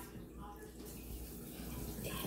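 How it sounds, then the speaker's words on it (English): Running tap water while hands are washed makes a faint, continuous splashing stream, with some low background sound. "I gotta wash my hands."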